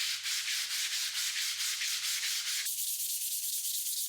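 Sandpaper rubs rhythmically along a split timber arrow shaft, close and steady, in quick back-and-forth strokes, shifting to a finer, smoother grit partway through.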